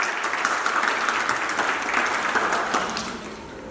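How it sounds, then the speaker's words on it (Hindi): Loud, dense clapping fills a school hall as the crowd cheers on a child entering a badminton tournament, sustained throughout and tapering slightly at the end. "इसके लिए जोरदार तालियां"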